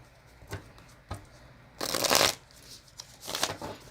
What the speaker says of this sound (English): so let's have a shuffle